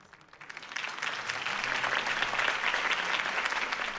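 Crowd applause in the video game Batman: The Telltale Series after a Harvey Dent campaign speech, swelling quickly from a few claps into dense, sustained clapping that holds at a steady level.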